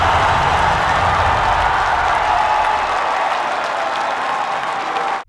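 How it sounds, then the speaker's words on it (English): A Star Wars fan crowd cheering and applauding loudly, a dense wash of clapping and shouts sustained at full volume before cutting off abruptly at the end. "cheering and screaming whenever George Lucas or any cast member comes out"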